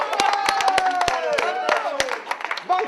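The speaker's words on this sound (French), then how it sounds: "On peut s'applaudir." A small group claps briefly in celebration outdoors during a protest action, scattered hand claps mixed with cheerful voices and talking over the top.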